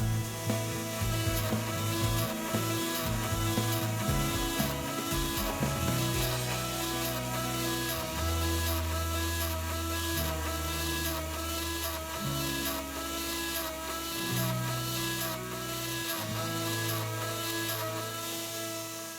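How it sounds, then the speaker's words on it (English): An EGX engraver drills Braille into a sign with a Braille drill cutter, a steady close mechanical whine with layered tonal hum and shifting low motor notes as the carriage steps between positions. "Now you can begin engraving the Braille portion of the sign using the Braille drill cutter."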